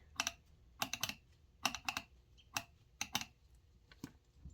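Quick, crisp metallic ticks and clicks of distributor contacts hitting come in small irregular clusters, close and fairly quiet, with near silence between bursts.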